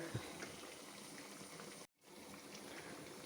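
Parippu vada frying in coconut oil, a faint steady bubbling sizzle with a brief dropout partway through before the soft frying hiss resumes.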